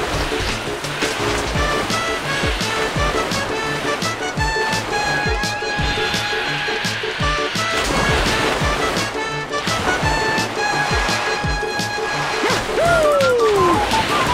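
Water in the Super Mario Galaxy video game sloshes and whooshes continuously alongside bright game music tones and chimes, with a descending sweep near the end.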